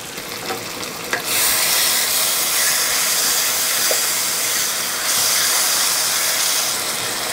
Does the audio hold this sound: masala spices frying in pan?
yes